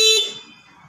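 A single short electronic horn beep from an E-Pluto 7G electric bike, a bright tone sounding close and fairly loud before quickly fading into quiet room noise.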